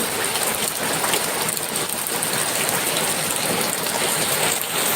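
Steady heavy rain pours down, a dense, even hiss with no pauses and no voices.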